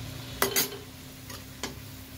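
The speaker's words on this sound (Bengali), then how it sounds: "এইগুলো ভেজে নেবেন" Puris for doi fuchka frying in hot oil, a quiet bubbling sizzle in the background broken by a few sharp scraping or stirring clicks close by.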